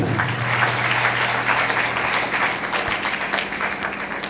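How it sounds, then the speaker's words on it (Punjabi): A congregation applauds loudly at a sermon, a sustained wash of dense clapping that carries steadily for several seconds, with a faint low hum beneath and no clear speech. "ਤਾਲੀ ਮਾਰੀਏ ਜ਼ੋਰ ਦੀ"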